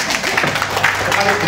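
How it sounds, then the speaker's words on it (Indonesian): An audience claps for a woman who has just given a testimonial at a transdermal and germanium product presentation: steady, dense applause filling the room for a couple of seconds, with murmuring voices mixed in. "Tepuk tangan dulu untuk Ibu ya."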